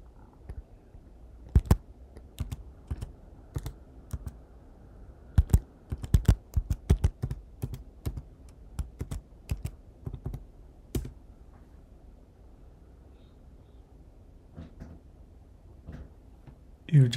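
Password being typed on a Mac keyboard: a dozen or more sharp, crisp key clicks in irregular bursts, close and clear over a quiet background hum, with a short gap near the end.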